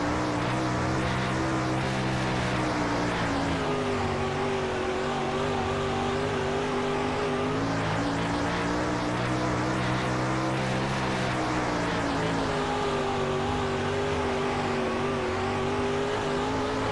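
Regional late model race cars in a World of Outlaws dirt racing game roar steadily around the track, their engines droning loudly with rising and falling pitch through the whole stretch, without any voices.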